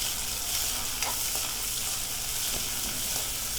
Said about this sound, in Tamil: இப்போ நல்லா வதக்கினதுக்கப்புறமா நம்ம கட் பண்ணி வச்சுருக்கிற வெங்காயத்தையும் சேர்த்து வதக்கிக்கலாம்